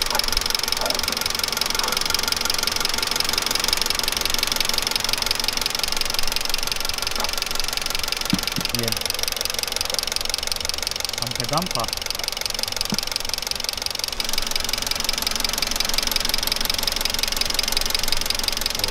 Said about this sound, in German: Wie man hört, hört man die Gasanlage jetzt sehr, sehr laut, weil die Düsen arbeiten.